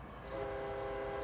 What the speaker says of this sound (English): I'm going to honk the horn as I drive past.